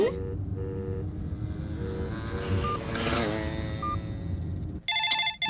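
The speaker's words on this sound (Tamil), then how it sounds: "உனக்காக நான் வச்ச ரிங் டோன் கேக்குதா" A phone ringtone plays in a Tamil film scene, a repeating tonal ring over background room noise and faint voices, ending with a brief sharp electronic chirp.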